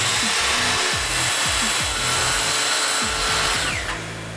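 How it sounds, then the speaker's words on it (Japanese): A circular saw running along a saw guide as it cuts through wood, a loud continuous whining roar close by with a rough grinding texture, easing off slightly at the end. "丸のこ定規で切って終わりです。"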